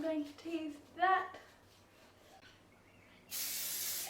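Hairspray hisses in one steady burst near the end while teasing a cheer-style ponytail, preceded by quiet breathy sounds and faint talk.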